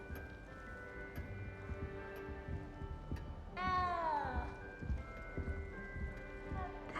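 A cat in the Hogwarts Legacy video game gives a single drawn-out meow, clear over a low game ambience of soft thumps and background hum.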